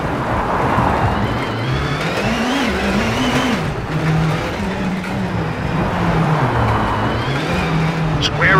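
Ford Fiesta WRC rally car engine in WRC 8 on gravel stages of Rally de Portugal, a loud continuous drone rising and falling through gear changes, steady and close throughout.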